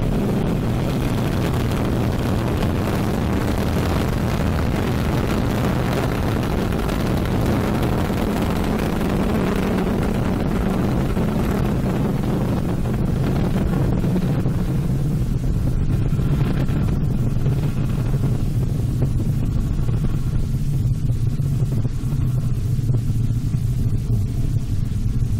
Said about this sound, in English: Roar of her engines, a lot of fire, and with BepiColombo on board